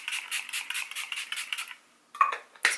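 A Hangover RX makeup setting spray misted over a face, a rapid run of short, airy pumps repeating for about two seconds, then two louder separate spritzes after a brief pause, close and alone.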